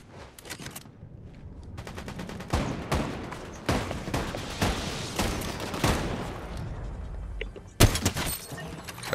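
Video game gunfire in rapid bursts, with sharp, loud shots rattling in quick clusters and a heavy crack near the end, mostly without talk.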